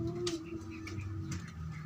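Blue bar pigeons coo softly nearby, a low murmuring coo running under faint background noise, with a few light ticks and rustles over a couple of seconds.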